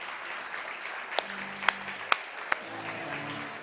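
Scattered applause at a startup demo day evening honouring the event helpers: a few sharp, distinct claps ring out over a quiet room while a voice calls out encouragement.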